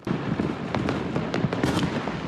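New Year's Eve fireworks in Hawaii, a dense barrage of rapid crackling pops and sharp bangs rattling on continuously, loud and fairly near, with no voices.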